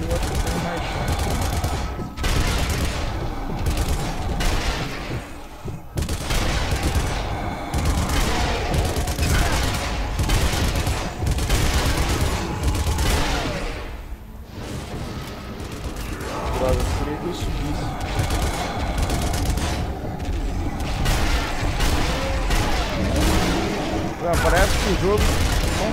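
Sustained gunfire from the zombie shooter video game Zombie Army Trilogy on PS4, dense bursts of shots and booms rattling nearly continuously with only a brief lull, loud and close.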